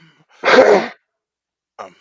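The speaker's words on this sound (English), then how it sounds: "just clearing my throat." A single harsh throat clearing, short and close, followed by a softer vocal sound after a pause.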